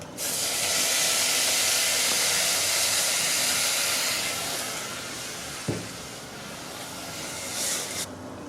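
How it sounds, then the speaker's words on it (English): White wine poured into risotto rice in a hot pan gives a loud rushing sizzle and hiss that gradually eases, with a single knock partway through. "The white wine is added."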